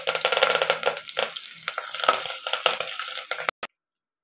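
Onion and green chilli sauté in a pan for a village-style fish curry, a close steady sizzle with scraping stir strokes that cuts off abruptly near the end.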